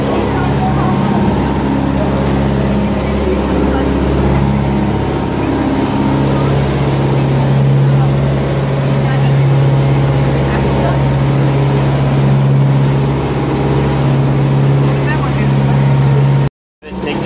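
A tour boat's motor drones steadily and loudly on the Bosphorus for a long stretch, a constant low hum with wind and splashing, cutting off abruptly at the end.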